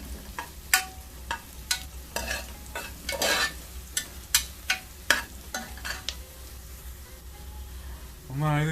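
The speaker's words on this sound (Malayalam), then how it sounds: "നമുക്ക് നന്നായി ഒന്ന് വഴറ്റി കൊടുക്കാം." Beef sautéed with kanthari chillies in a Kerala-style dish sizzles softly in a pan under rhythmic, close clacks of a spoon stirring, ending with a brief voice.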